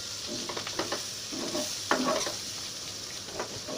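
Bitter gourd fries in a pan with fish roe as sliced green chilies are added, giving a steady close sizzle with a few bursts of stirring and spatula scraping and no speech.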